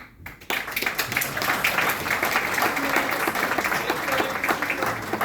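Sustained applause from an audience at a university book launch in Skopje, many hands clapping densely and steadily after a brief quiet opening, filling the room at a constant level.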